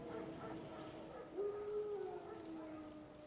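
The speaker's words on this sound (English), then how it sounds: "Wolves? No. Wild dogs." Wild dogs in The Witcher 3 video game let out a faint, distant howl that rises and holds for under a second, over a low, steady ambient background.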